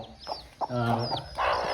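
A mother hen with her chicks gives several close, throaty clucks and a drawn-out call, while small high chick peeps rise between them.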